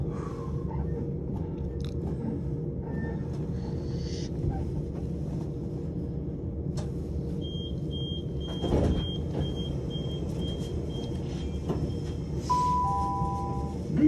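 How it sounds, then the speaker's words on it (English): A Southern train to Brighton stands at Goring-by-Sea station, its low engine rumble steady beneath faint platform clatter, with brief tonal beeps and electronic chimes near the end. "This train is the southern service to Brighton"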